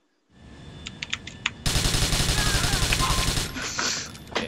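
Rapid automatic gunfire in Grand Theft Auto IV multiplayer, a few sharp single shots followed by a loud sustained burst of machine-gun fire and trailing mechanical clatter.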